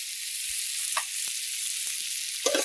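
Egg slices dropped into hot white oil in a village kitchen, giving a continuous close sizzle with a few sharp spits and a brief clatter near the end.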